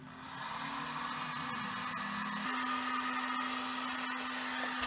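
A heat gun blows hot air for soldering a small Tesla coil top load, giving a steady, close airflow whine that runs unbroken, with a low tone that shifts pitch partway through.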